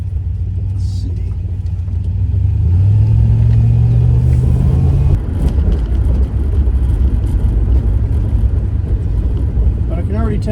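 An older car with a four-barrel carburetor and a replaced accelerator pump drives along, its engine rumbling loudly and rising in pitch as it accelerates, with someone talking over it.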